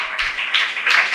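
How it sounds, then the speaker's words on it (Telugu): A church audience claps hands together, a dense burst of steady clapping that is close and fairly loud, with no voices over it. "చప్పట్లు కొట్టండి"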